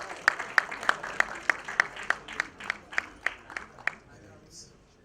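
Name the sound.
audience applause at a trailer launch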